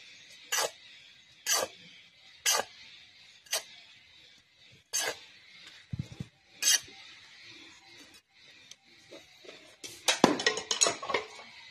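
Small chip stones clink sharply into a flower pot for a gerbera plant, a series of separate hard clatters spaced about a second apart, then a denser rattling burst near the end, close and otherwise quiet.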